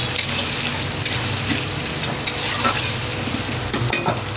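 Onions frying in a few spoons of oil in a kadhai for chicken dum biryani, with a steady close sizzle and occasional stirring scrapes throughout.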